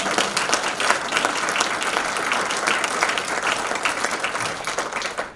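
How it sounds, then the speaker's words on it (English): An audience at a college of medicine all-college meeting breaks into applause, many hands clapping in a dense, sustained patter with individual claps standing out, fading slightly at the close. "We got to give a round of applause."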